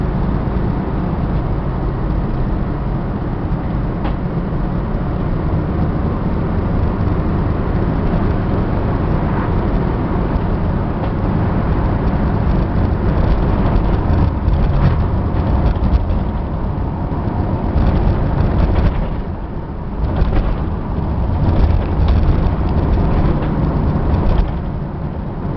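A Class C motorhome on a Chevy drivetrain cruising at speed, a steady loud broadband rumble of engine and road noise with a continuous interior drone and no talk.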